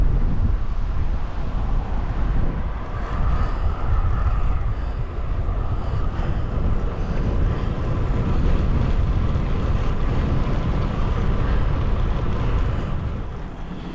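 Wind rushes past while riding a bicycle on a warm afternoon road, a continuous loud buffeting roar over the microphone, steady throughout and easing slightly at the end.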